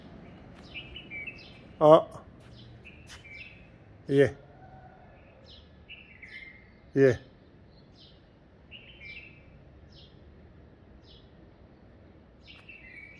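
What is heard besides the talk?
bulbul singing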